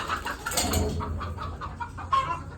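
A large hen with curly, reversed feathers clucking up close in a farmyard, a series of short rhythmic clucks with a few louder calls near the end, with no one talking.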